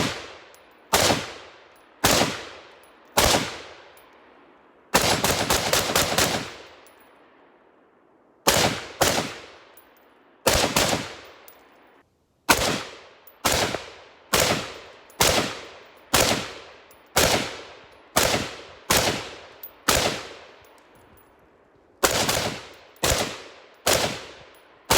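A budget AR pistol is fired repeatedly at an outdoor gravel pit: loud, sharp single shots and quick strings of rapid fire, each crack trailing into a short echo, with brief pauses between volleys.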